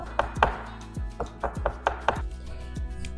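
A fork pricks apple pie dough in a series of short, sharp taps on a hard surface, about eight in an irregular rhythm, close by and fairly quiet, with no talking.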